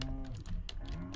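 Cows in the Stardew Valley farming game low with a deep, drawn-out moo under a steady hum, broken by quick clicky taps like keyboard typing.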